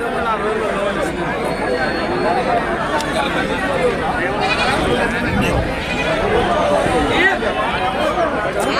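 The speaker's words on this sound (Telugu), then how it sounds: "పెద్ద పట్టేళ్ళు ఎక్కువ వచ్చినాయి ఈ వారం కుంట గొర్రెల మేకల సంత" Big rams and goats bleat repeatedly at the busy weekly Kunta sheep and goat market in Prakasam district, their calls rising over a dense hum of crowd chatter and talk.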